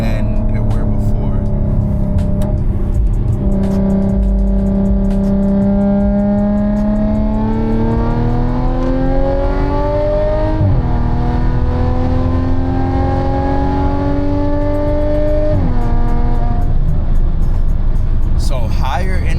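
A 100k-mile Audi engine revving through the gears from inside the car, its rising drone climbing in pitch in repeated sweeps with gear-change drops, over loud road and cabin noise; exhaust pops are not clearly distinct.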